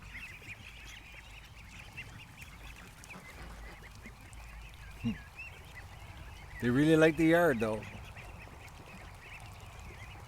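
Ducks in a backyard give one short, loud burst of nasal quacks near the end, close by, after a quiet stretch of faint background and a person speaking.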